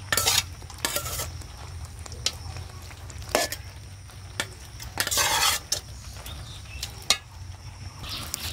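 Cleaned goat stomach tripe goes into a pan with spices for a Bengali tripe fry, then gets stirred, bringing a steady low sizzle with repeated sharp scrapes and clinks of a utensil against the pan, close by.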